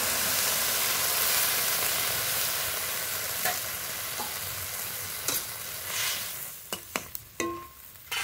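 Helencha greens curry cooking in a pan as fried puti fish goes in, a steady loud sizzle that fades as a series of sharp clattering stirs and utensil knocks come through near the end, no speech.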